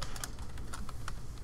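Quick, close keystrokes on a computer keyboard, a burst of irregular clicks and taps tumbling over one another for just over a second, with no speech.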